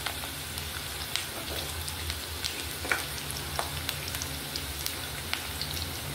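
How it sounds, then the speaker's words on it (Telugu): Onions, green chilies and curry leaves frying in oil in a pan, giving a continuous quiet crackle with scattered sharp pops and spatters, and no talk. "ఇప్పుడు ఉల్లిపాయలు బాగా వేగాలి."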